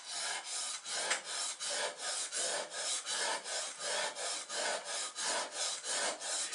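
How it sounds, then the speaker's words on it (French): Wood chisel honed on a wet whetstone, a rhythmic rasping rub repeating about twice a second in even back-and-forth strokes, close and fairly quiet with no voices. "pour affûter par exemple un ciseau, on met un peu d'eau"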